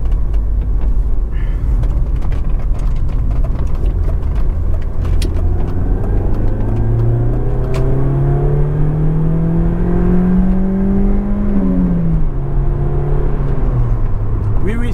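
A 1994 BMW 318is E36 prepared for Class II motorsport accelerates hard, its engine note climbing steadily through the rev range before a gear change, loud and close from inside the car with no one speaking.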